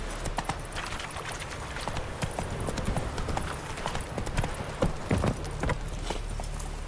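Roach, Geralt's horse in the video game The Witcher 3, gallops with a steady rapid clip-clop of hooves over a low ambient rumble, with sharper hoofbeats near the end.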